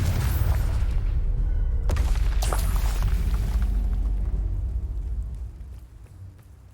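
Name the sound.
Confringo blasting curse explosions, video game Hogwarts Legacy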